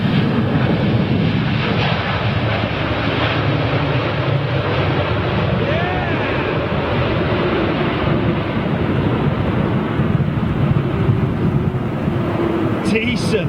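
An Aeromexico airliner lands at Heathrow in strong wind, its steady broadband engine roar and air rush holding loud and constant throughout, with wind buffeting the microphone.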